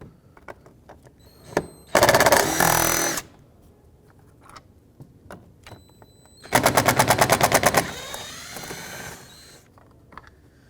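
Two bursts of a power tool spinning out T30 Torx bolts on a 2006-2011 Chevrolet HHR door, each a loud rapid ratcheting buzz lasting about a second, separated by quiet clicks and handling noises.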